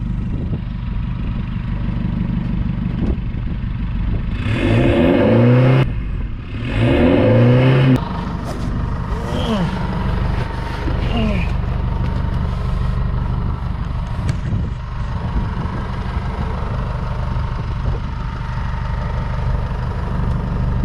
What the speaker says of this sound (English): I'll go give this a rev